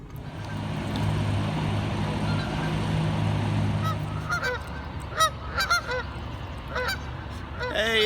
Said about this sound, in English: these geese are making a lot more noise